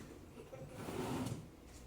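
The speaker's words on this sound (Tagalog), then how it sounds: "And then, bedside drawer." A wooden bedside table drawer in a hotel room in Baguio slides open and shut with a soft, muffled rumble, quiet and close, with no talking.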